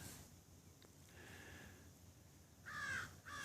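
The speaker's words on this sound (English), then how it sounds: "There's that stupid crow." A crow caws twice near the end, a pair of harsh, loud calls after a faint earlier caw, over quiet damp early-morning outdoor ambience at sunrise on Lulu Key.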